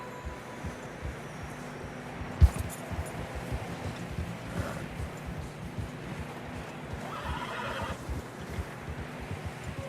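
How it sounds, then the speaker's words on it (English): Horses in the snowy mountains of the Red Dead Redemption 2 video game whinny and snort as they struggle through deep fresh snow, with a sharp neigh near the start over a steady wind-like hiss and soft hoof movement. "Horses are struggling."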